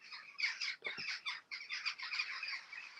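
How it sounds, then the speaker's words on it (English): Geese calling somewhere nearby, a fairly faint, continuous run of honking and squawking calls with a couple of low thumps partway through, no speech. "is that your geese?"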